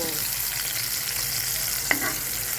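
Steady, loud frying sizzle while cooking rajma (kidney beans), a continuous hissing crackle close by with one brief stir or clink near the end.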